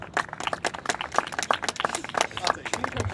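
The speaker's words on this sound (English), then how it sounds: "Let's hear a round of applause." A crowd at a university student panel event applauds with dense, steady clapping that carries on throughout, with a few voices mixed in.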